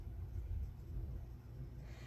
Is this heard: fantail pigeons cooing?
no